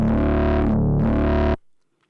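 A thick, growling synth bass note shaped by filter FM, with a gritty, distorted tone, sweeps and wobbles in brightness, briefly dulling mid-way, then cuts off abruptly.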